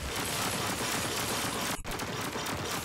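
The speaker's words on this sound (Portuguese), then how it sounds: "ela dá dois tiros com um puxar de gatilho" Dense, continuous gunfire from the game Warframe fills the clip, Akjagara pistols firing two shots per trigger pull, with rapid overlapping shots and a brief dip near the end, no talking.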